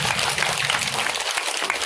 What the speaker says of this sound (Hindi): आप उनके लिए एक बार जोरदार तालियां जितेंद्र प्रसाद जी